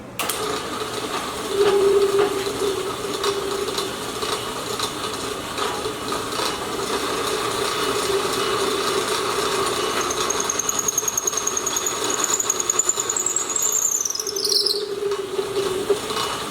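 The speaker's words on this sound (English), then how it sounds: "I want to drill 3/8 inch holes that will peg the tenons down into the top and into the foot" Drill press boring 3/8 inch peg holes two inches deep into 3-inch-thick wood trestle parts, a steady close mechanical whir with grinding and ratcheting texture running throughout, rising slightly near the end, with no talk.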